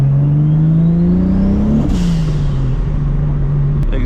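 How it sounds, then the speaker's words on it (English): A Toyota Supra MKIV with a new turbo setup, a new downpipe and an exhaust manifold accelerates at night. The throaty exhaust is loud and close, rising in pitch, dipping briefly and then pulling again. "Exhaust tone is definitely a lot more like throaty."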